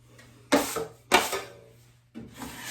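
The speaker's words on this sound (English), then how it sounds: "scraping, clean it off" A drywall knife scrapes joint compound off a seam in three short, close rasping strokes separated by brief pauses.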